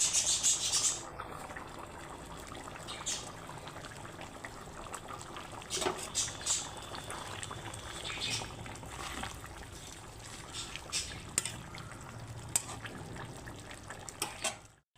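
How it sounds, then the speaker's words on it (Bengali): Water from boiled jackfruit is poured into a cooking pan of egg and jackfruit curry, a continuous close trickling pour with light clinks of metal against the pan. "এখন এঁচোড় সেদ্ধর জলটা আমি দিয়ে দিচ্ছি।"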